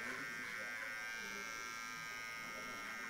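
An electric hair clipper trimming a beard gives a steady, quiet high buzz that carries on evenly throughout, with faint talking underneath.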